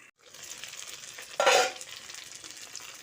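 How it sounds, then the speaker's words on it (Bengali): Potato and eggplant being stirred in a pan for a vegetarian eggplant dish: a steady close sizzle with soft scraping, swelling into a louder, brighter burst of frying midway before settling back. "এইভাবে নাড়াচাড়া করে আলুটা আর বেগুনটা রান্না করে নেব"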